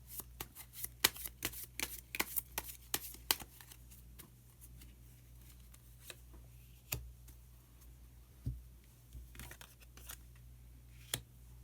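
Tarot cards are shuffled and drawn in a quiet room: quick crisp riffles and slaps in a cluster at first, then sparser soft card snaps and slides.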